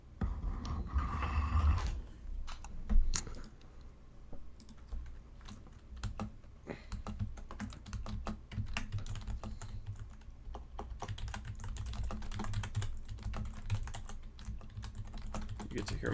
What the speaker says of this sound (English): You get to hear my typing.